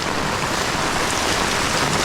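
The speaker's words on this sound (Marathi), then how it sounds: "पाऊस मंडळी जोरात असा." Heavy rain pours down in a dense, constant roar with no pauses.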